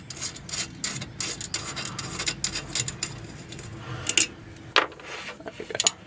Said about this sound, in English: taking the wire off this old ground clamp, using a spud wrench here